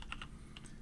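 Typing on a computer keyboard: a few light, quick key clicks, close and faint, alone over a low background hum.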